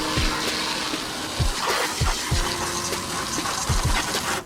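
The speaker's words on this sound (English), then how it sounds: "as we're starting to hit the car with a hose" A hose sprays water onto a heavily soiled, high-mileage Ford Fiesta during a wash, a steady close gush of splashing water with a few heavier thumps as the stream hits the bodywork.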